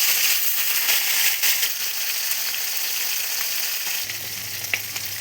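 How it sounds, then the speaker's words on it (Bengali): Tilapia fish, rubbed with salt and turmeric, frying in hot oil in a kadai, a loud, steady, close sizzle with sharper spits and crackles, a low hum entering near the end. "তেল গরম হয়ে গেছে, মাছটা দিয়ে দেবো"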